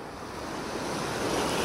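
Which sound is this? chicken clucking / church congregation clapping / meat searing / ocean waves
ocean waves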